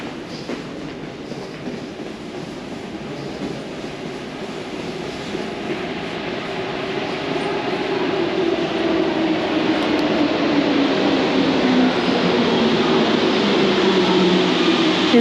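Paris Metro line 3bis train pulling into Porte des Lilas station, a steady rumbling roar that builds louder as it approaches, with a faint falling whine underneath.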